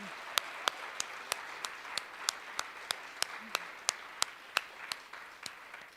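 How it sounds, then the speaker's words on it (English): At the UNC Public Service Awards ceremony, sparse, slow applause sounds quiet and somewhat distant, with single sharp claps landing at an even, measured pace over a low, hushed room. "let's have one more round of applause for all these outstanding"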